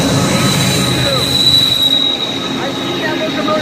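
Double stack intermodal freight train passing close by, with steady loud rolling rumble and high-pitched wheel squeal throughout.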